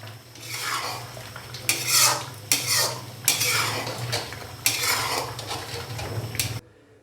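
A spoon stirring beef makhni in a karahi pot after ground black pepper goes in, making repeated metal scrapes and clinks in irregular bursts over a low steady hum, close by, ending abruptly in near silence.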